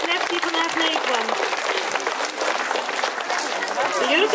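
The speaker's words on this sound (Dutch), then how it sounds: "Een hartelijk applaus voor deze bruidegom met Lef die vandaag meekwam" Audience applause for a groom at a bridal fashion show at a summer fair, steady clapping from a crowd mixed with crowd chatter and voices throughout.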